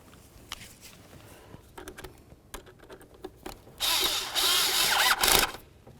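Short bursts of ratcheting and mechanical whirring while a throttle body part is tightened on an 2008–2012 Jeep Liberty, starting with faint clicks and rising to a louder sustained buzzing near the end.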